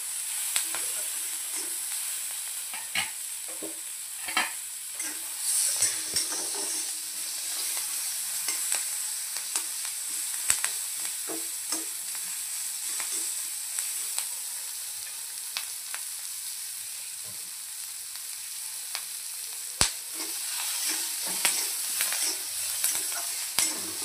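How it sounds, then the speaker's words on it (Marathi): Onions fry in a pan for a paneer chilli masala, a continuous bright sizzle with scattered clicks and scrapes of stirring, close and steady throughout, with no speech. "छानपैकी आपल्याला लालसर असा हा कांदा यामध्ये फ्राय करून घ्यायचा आहे."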